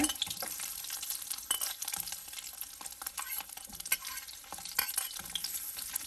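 Garlic sautéing in oil in a pan for a mango-vattal kuzhambu, with a steady broadband sizzle and intermittent stirring clinks of a utensil against the pan, no voices.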